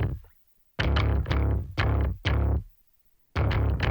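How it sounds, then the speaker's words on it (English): Two layered basses with distortion, bussed together on a bass aux track, play a deep, gritty pattern of short punchy notes separated by silent gaps, loud and alone without talk. "Then these two basses goes to this aux track that I call bass X"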